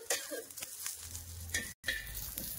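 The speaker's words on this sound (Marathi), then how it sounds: "मिरच्या आपल्या एकसारखं भाजून घ्यायच्या" Green chillies roast and sizzle in a hot pan, with soft scraping stirs and intermittent crackles close by, briefly cut by a short silent gap.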